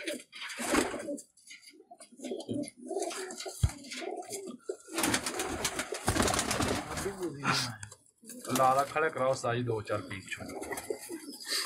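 Teddy pigeons in a home loft coo and flutter close by, their low calls mixing with frequent talking and handling noises throughout.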